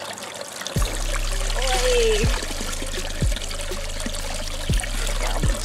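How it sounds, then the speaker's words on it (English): Well water from St Ronans pours steadily into a 10-litre bag with a continuous trickling splash, broken by a few dull low thumps. A brief voice is heard once. "So we got one bag full, that's 10 litres of well water straight from St Ronans."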